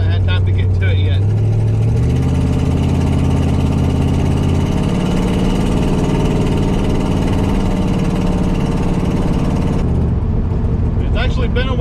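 A 1968 Dodge Charger R/T engine runs with exhaust leaks, a loud, close, steady rumble that rises after a couple of seconds, holds, then settles, with a voice heard at the start and end.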